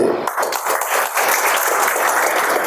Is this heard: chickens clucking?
no